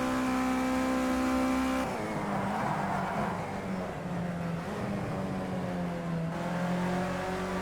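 Race car engine in Project Cars 2 lapping Silverstone, loud continuous revving that climbs through the gears, drops sharply on downshifts and climbs again, with no voices over it.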